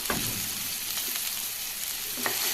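Beans, carrot and green peas sautéing in a pan for rava kichadi, a steady close sizzle with occasional scraping stirs of a spatula, no voices.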